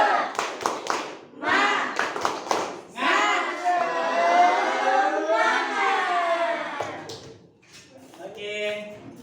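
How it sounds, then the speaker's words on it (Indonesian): A class of schoolchildren claps a rhythmic cheer pattern led by a teacher, with sharp bursts of claps alternating with loud chanting voices of the group, ending with a short response from the children. "Semangat, tepuk semangat."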